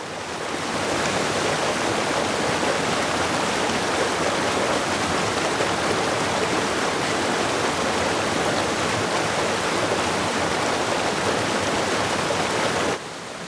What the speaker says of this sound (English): 21 waterfalls in the heart of the forest.